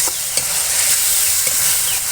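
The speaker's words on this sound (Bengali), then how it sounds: "এবার একটু ভাজে নিলে পরই হয়ে যাবে সুস্বাদু পটল ভাজা" Pointed gourd (potol) frying in a pan, a steady close sizzle and hiss with a couple of soft stirring scrapes, brief and without talk.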